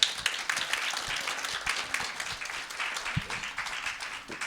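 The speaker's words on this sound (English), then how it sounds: "I want to give a round of applause, everybody." Audience applause fills the room at a gathering, steady dense clapping from many hands sustained throughout, fairly loud and close with no talk over it.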